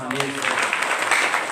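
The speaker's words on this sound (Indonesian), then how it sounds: "Kasih tepuk tangan dulu sama Tuhan Yesus." A church congregation claps during a Christian sermon, a dense, steady patter of many hands that is brief and fairly close.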